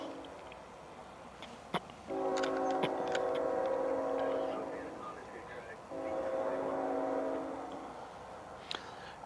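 A Canadian National freight train sounds its horn for a grade crossing near Anaconda, Kentucky: a short tick, then two long sustained chords from a distance, one ending near five seconds and another following, with quiet ambience between.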